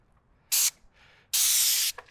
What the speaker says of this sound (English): start spraying some stuff on top of this